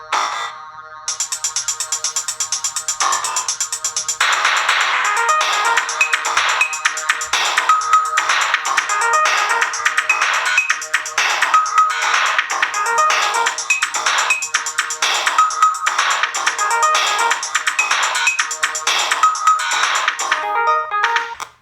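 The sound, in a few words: Amiga Sound Attacks Volume 3 demo audio on PiMiga 4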